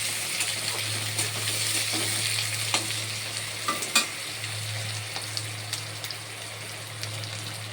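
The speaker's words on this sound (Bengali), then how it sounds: "পেঁয়াজটা ভালোভাবে ভেজে নেব যাতে লাল লাল হয়।" Onions frying steadily in a pan, cooking down until reddish-brown: a continuous close-up crackle and sizzle with scattered sharper pops and a low steady hum underneath, no voices.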